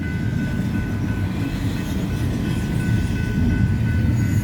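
A Union Pacific freight train rolls past a grade crossing in Kelso, close and loud, a continuous heavy rumble of wheels and cars with faint squeals above, no talking.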